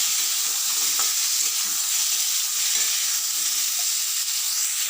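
Cut mango and whole mustard seeds stir-fried in a pan give a steady, loud hiss and sizzle throughout, with faint scraping of stirring and no voices.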